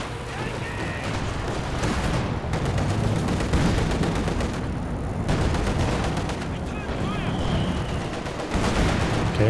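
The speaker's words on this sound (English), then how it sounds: "Comes the Katyusha going for the machine gun" Katyusha rocket artillery and machine-gun fire in a Company of Heroes 2 battle, a dense, continuous roar of overlapping blasts and rapid shots, loud and sustained throughout with a voice talking over it.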